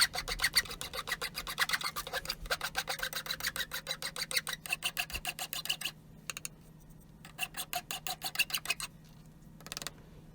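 Steady back-and-forth rasping of a coarse file on a steel Punch Lok hammer head, close and loud, in fast regular strokes that pause briefly and resume, with the file occasionally tapped to clear filings.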